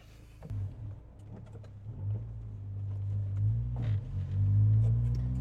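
A red 2002 Honda S2000 pulls away from a standstill, its engine rumbling low and then rising in pitch and loudness through the revs, heard from close by in the cabin.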